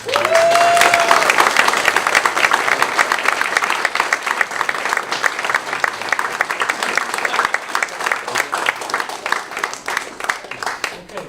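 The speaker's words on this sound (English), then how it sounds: "I think we should really give Bernie and Mario and Fred Ward a big round of applause." An astronomy club meeting audience breaks into a big round of applause, dense clapping that holds steady for several seconds before thinning a little, with a brief voice and faint crowd murmur near the start.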